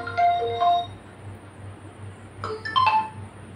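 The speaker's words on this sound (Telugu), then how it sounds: "జస్ట్ దీంట్లో ఇలా ట్యాప్ చేస్తే ఆటోమేటిక్గా మీ ఫోన్ అనేది రింగ్ టోన్ అయితే వస్తుంది" A phone ringtone set off remotely by a Noise ColorFit Vision 2 smartwatch's find-phone feature: two short bursts of bright melodic tones, a pause, then a second flurry of chiming notes, moderately loud with no talking.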